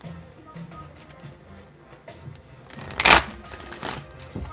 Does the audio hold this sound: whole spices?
no